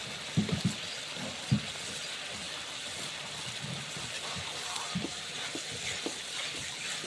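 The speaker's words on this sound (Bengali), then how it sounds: "পানিটা শুকিয়ে একদম পুরো শুকনো ভাজা ভাজা হবে ততক্ষণ মশলাটাকে আমি কষাবো" Masala being stir-fried in a pan as its water cooks off, a soft steady sizzle broken by scattered scrapes and stirring knocks, close and moderate in volume with no talk.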